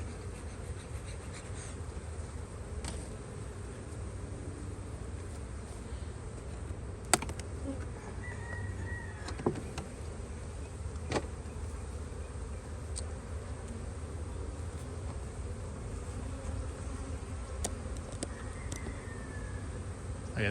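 Honey bees buzz steadily in an open hive box during a spring inspection, a continuous low hum close by with a few faint clicks and knocks of handling on top, no voices.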